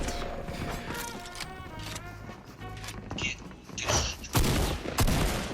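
Gunfire in the video game Fortnite comes as rapid bursts of shots and mechanical clicks, loud and close, mixed with game music and effects.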